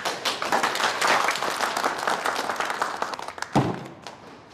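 An audience at a company event claps together, a dense burst of applause that gradually thins into scattered claps and a final thump before fading.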